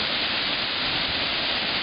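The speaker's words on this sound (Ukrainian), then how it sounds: "Ось так водоспад виглядає" The Zhenetskyi waterfall, seen from an upper viewing platform, gives a steady, dense rushing roar with no pauses.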